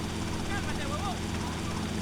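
Helicopter in GTA Vice City Remastered, a steady rotor and engine drone running throughout beneath a low game soundtrack, with faint tonal game sounds drifting over it.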